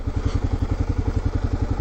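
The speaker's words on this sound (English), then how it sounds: "Motorcycle parked right here." A parked motorcycle engine idles close by on a Wisconsin adventure trail ride, a steady loud rhythmic low putter with regular pulsing beats and no talk.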